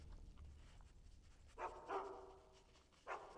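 Dogs bark a few times as a stream alert sound, faint and distant over a low background hum, with sharp yelps in quick pairs and a final bark after a short gap.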